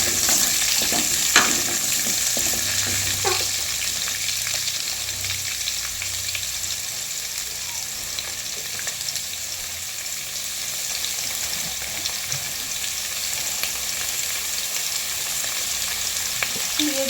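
Cut potatoes fry in a pan with browned onions, a steady close sizzle running throughout, broken by a few scraping stirs early on.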